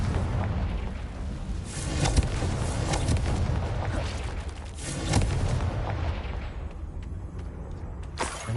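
A Confringo fire spell from Hogwarts Legacy goes off in a run of heavy booming blasts over dense rumbling game noise. The loudest bursts land near the start, middle and end.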